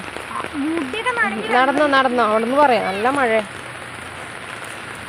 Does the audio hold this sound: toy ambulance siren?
no